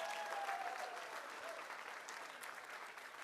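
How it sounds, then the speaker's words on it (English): Guests at a wedding reception break into steady applause, a full wash of clapping from a crowd that holds evenly throughout, quiet in level with a faint tonal sound briefly audible underneath. "Let's give him a huge round of applause."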